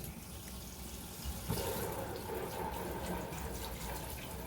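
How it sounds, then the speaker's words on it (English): Corn tortillas are dropped into hot olive oil in an iron skillet, and a bright sizzle jumps up about a third of the way in, then holds as a steady, close frying hiss. "we're going to drop our corn tortillas in here"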